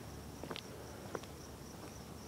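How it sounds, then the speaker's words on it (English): Faint crickets chirp in a quiet residential neighborhood at night, a thin steady trill under soft background noise with a few small taps. "Didn't really get the sound of crickets too much at my old neighborhood."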